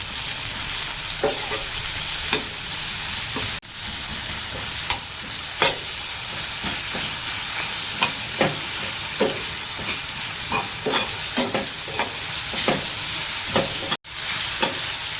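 Steady sizzle of salted chopped vegetables frying in a pan, with sharp clicks and scrapes of a utensil stirring at irregular intervals.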